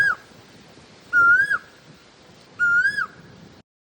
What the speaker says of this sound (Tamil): இந்த மாதிரி ஒரு குயில் சவுண்டோட எந்திரிப்பீங்க